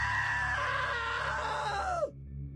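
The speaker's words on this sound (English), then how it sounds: "Now that was a great scream" A loud, sustained scream from a character in the video game What Remains of Edith Finch, held for about two seconds before falling away sharply into quiet.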